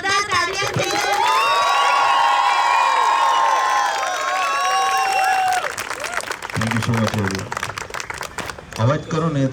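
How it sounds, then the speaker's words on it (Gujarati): A live audience at the Surti Sunday Carnival rap show in Surat gives loud cheers, whoops and applause that fade out, followed by someone talking. "જોરદાર તાળીઓથી"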